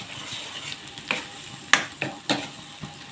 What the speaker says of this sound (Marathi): वाटप मी जरा चांगला परतान घेते